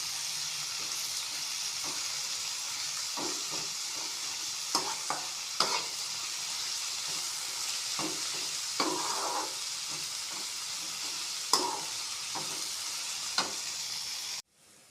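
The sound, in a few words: vegetable fried rice frying and stirring in pan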